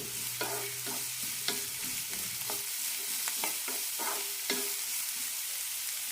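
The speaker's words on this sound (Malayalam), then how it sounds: "കഷ്ണങ്ങൾ ചെറുതായി ഒന്ന് ബ്രൗൺ ആയി കിട്ടണം അതുവരെ വറക്കാം" Bitter gourd pieces fry in a little oil with a soft steady sizzle, broken by repeated spatula scrapes and taps against the pan, close and fairly quiet, no one speaking.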